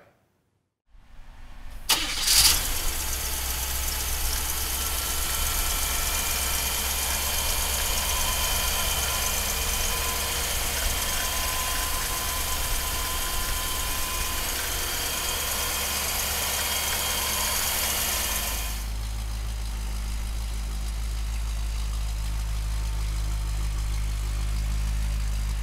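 After a moment of quiet, the big-block V8 of a 1958 Chevrolet Impala cranks and catches, then settles into a steady, rumbling idle that deepens near the end.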